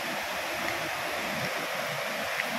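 Steady broadband rush of water from a small, gentle waterfall at Bolinao Falls, a continuous even splash with no distinct pauses or surges.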